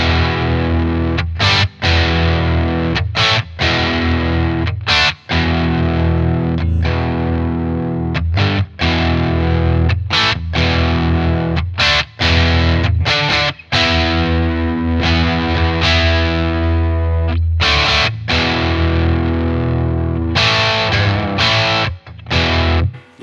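Distorted electric guitar through a Boss Katana amp patch, loud, crunchy chord riffs with short choppy breaks between phrases, played alone and close throughout.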